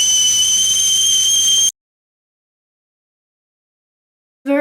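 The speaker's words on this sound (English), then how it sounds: "A whistle blown." A steady high whistle sounds loudly and alone for under two seconds near an induction cooktop, then cuts to silence before another short whistle starts at the end.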